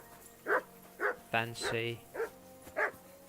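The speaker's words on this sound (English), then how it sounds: "I assume you can hear that damn dog of yours barking." A dog in the video game Kingdom Come: Deliverance II barks five times at a steady, moderate distance, with a short spoken line in the middle.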